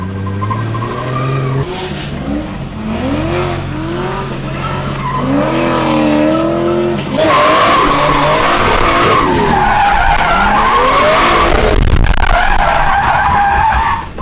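A drift car slides through the LZ Compound, including a deep puddle, with loud sustained tire skidding and squeal layered over revving engine, growing rougher and denser in the second half.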